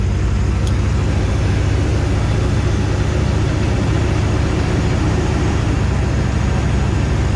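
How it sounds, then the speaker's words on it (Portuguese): A Humvee M998 with a V8 engine drives along, a steady, loud engine drone and road roar heard from inside the vehicle, continuous with no talk. "Olha o som do V8."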